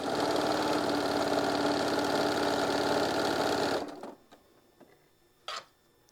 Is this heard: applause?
no